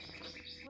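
Small birds chirp and tweet softly in a quiet village garden in Goritsa, Bulgaria, a brief run of high calls with no one talking.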